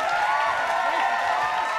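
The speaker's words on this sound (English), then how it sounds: "How about giving yourselves a big round of applause for coming and supporting this wonderful event?" Steady applause from an audience at an outdoor garden party, a dense, even wash of clapping that holds at a constant level throughout without breaks.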